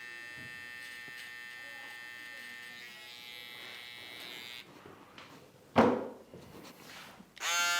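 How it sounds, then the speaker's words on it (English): A barber's electric hair trimmer buzzes steadily and close for several seconds, then cuts off, followed by handling knocks and a brief rustle. "Get the trimmer"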